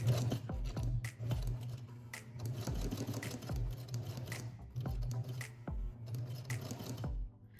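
A sewing machine stitches fabric slowly around a curve for a bow, its close, steady motor hum broken by rhythmic needle clicks that pause and restart in short bursts. No one speaks.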